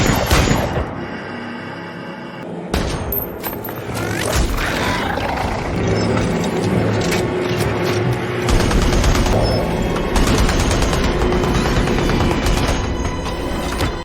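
Sustained machine gun fire from automatic sentry guns in a war movie, with dense rapid bursts, booms and crashes at loud, near range, continuous throughout with no pauses.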